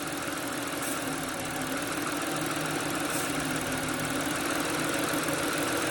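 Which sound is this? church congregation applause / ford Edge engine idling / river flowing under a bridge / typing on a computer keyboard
ford Edge engine idling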